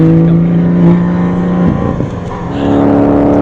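A race car on a track sweeps past with a loud, close engine drone, its pitch dropping sharply midway as it goes by, then another engine tone builds again.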